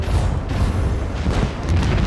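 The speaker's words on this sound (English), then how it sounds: "Unleash the storm of macro cannons." Macro cannons fire in the Warhammer 40K: Rogue Trader video game as a sustained heavy, booming barrage of low rumbling blasts, loud and continuous.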